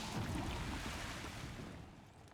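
Water surging and rushing in the beaver city-building game Timberborn, a faint, continuous wash of noise that gradually fades over two seconds.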